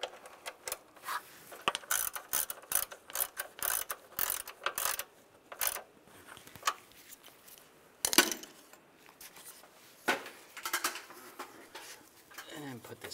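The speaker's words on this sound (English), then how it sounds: "Put the nut on and we'll tighten that down." A ratchet tightens a nut on a cover of a 2007-2013 Chevrolet Silverado 1500, with rapid close clicking bursts in quick repeated strokes, slowing into a few sparser clicks near the end.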